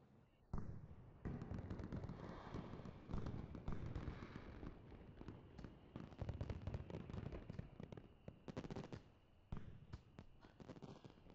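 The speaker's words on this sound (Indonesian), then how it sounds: "Saya sudah melihat banyak kembang api, tapi belum pernah melihat warna ini." Fireworks bursting in a rapid, irregular series of sharp crackling pops, some louder booms among them, continuing for several seconds at a moderate distance.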